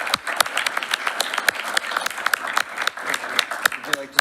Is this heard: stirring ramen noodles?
no